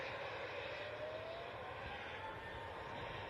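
A fixed-wing airliner touches down on the runway at an airport, heard as a steady, broad engine roar with a faint rising whine, continuous and fairly distant with no voices.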